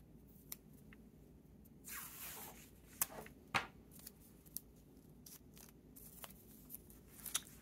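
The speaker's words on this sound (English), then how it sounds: "Let me lay down some washi tape for tomorrow." Washi tape is pulled, torn and pressed down into a B6 Stalogy planner, giving faint close rips, soft rubs and sparse small clicks over a quiet background.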